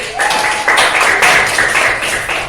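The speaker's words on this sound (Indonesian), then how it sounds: "beri tepuk tangan untuk Hafiz" Primary school pupils applaud a classmate in the classroom, with a loud, continuous wash of many hands clapping close by, sustained throughout with steady density.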